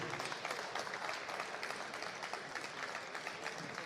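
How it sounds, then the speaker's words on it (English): An audience applauds Peel High School at a high school esports Rocket League match, with dense, steady clapping filling the whole stretch. "Round of applause for Peel High School."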